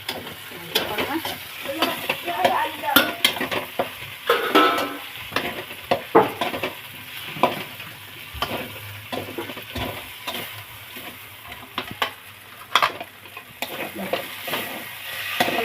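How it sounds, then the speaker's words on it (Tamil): Steady stirring of sago in a boiling pot, with bubbling, sizzling cooking noise and occasional utensil scrapes, close by and continuous, no voices. "போட்டு கொஞ்சம் நம்ம கை விடாமல் கிண்டணும்"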